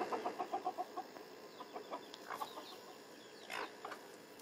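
Chickens clucking in a backyard flock with a young rooster, a run of soft rhythmic clucks at the start followed by scattered quieter calls and chirps at moderate distance, fairly faint overall.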